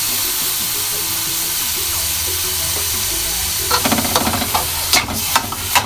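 Ground pork stir-frying in a pan for ampalaya, a constant hissing sizzle with a low hum that gives way to bursts of scraping and clattering stirs toward the end.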